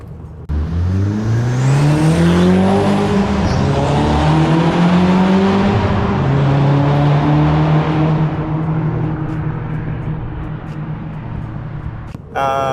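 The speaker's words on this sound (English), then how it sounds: "I'll throw in some clips of the exhaust and some sounds from that." An Audi S3 8L's loud custom exhaust revs up and down, its engine note rising and falling in pitch over several seconds before fading briefly and returning.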